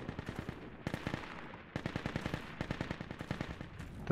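Enemy automatic gunfire rattles in a video game battle around a lighthouse, with rapid bursts of shots that pause briefly and then resume, heard at a moderate distance.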